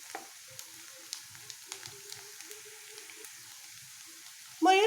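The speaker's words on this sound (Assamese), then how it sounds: "আমি আৰু অলপ সময়ৰ বাবে ইয়াক ভাজি ল'ম।" Onions softening in plenty of oil for a dry fish chutney sizzle faintly, with scattered light pops and crackles over a quiet background, and a brief louder sweeping sound at the very end.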